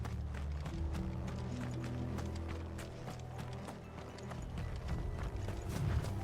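Horses' hooves clip-clop steadily in Final Fantasy XVI, a quick rhythmic clatter of several horses running over ground, close and continuous alongside music and ambient game sound.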